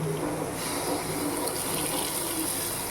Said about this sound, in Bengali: একটু বাটিটা ধুয়ে দেবো